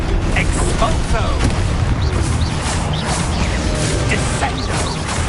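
An Expulso spell explosion in Hogwarts Legacy, a dense, loud blast with rumbling debris and sustained crackling combat noise that fills the whole moment.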